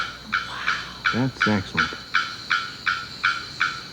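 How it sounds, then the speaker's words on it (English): A bearded bellbird calls in a rapid series of loud, sharp metallic bonks repeating at an even beat, with a person speaking briefly partway through. "I've heard that these bellbirds in general have one of the loudest calls of any bird."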